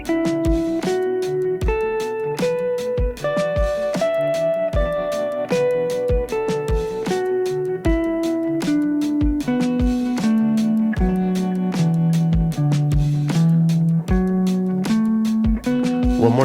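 A guitar plays a pentatonic scale shape slowly, one clean note at a time at an even pace, climbing and then descending over a steady beat, close and clear with no talking.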